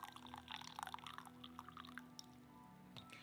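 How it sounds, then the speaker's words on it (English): A slow pour of coffee from a carafe gives faint, uneven splashing drips that thin out toward the end, quiet against a low steady hum. "I think maybe it's because it's in a carafe and it's pouring slowly."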